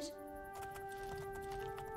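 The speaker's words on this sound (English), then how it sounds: "Oh, no, this is my horse." Horse hooves clopping in a brief quick patter in the video game The Elder Scrolls IV: Oblivion, heard under a steady game tone and light background sound.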